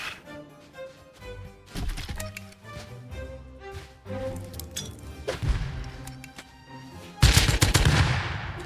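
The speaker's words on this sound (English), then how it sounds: "My nade almost killed me, bro" A grenade goes off in Rust with a loud, broad blast near the end, following scattered clicks, thuds and sharp gunfire-like pops.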